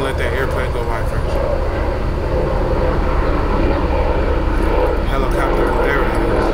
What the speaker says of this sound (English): You hear that airplane go by?